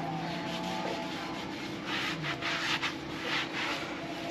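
A rag wipes brake cleaner across a trailer wheel's braking and magnet surfaces, giving a steady close rubbing and scrubbing sound with a few louder strokes and no talk.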